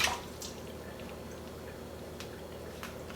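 Bell peppers rinsed under running water in a kitchen: a steady, even hiss of flowing water with a few faint drips and splashes, close and fairly quiet, with no talk.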